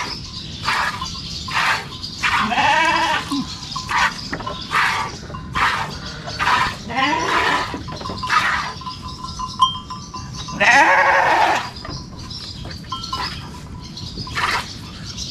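Sheep bleat repeatedly on a farm around milking time, a steady series of short, nasal cries at close range, mixed with twittering birds in the background and no talking.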